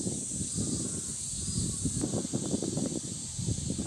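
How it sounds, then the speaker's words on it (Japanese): A steady, high-pitched drone of cicadas fills the air outdoors by the sea on a sunny summer day, over low rustling, wind-like noise. "セミが鳴いています。"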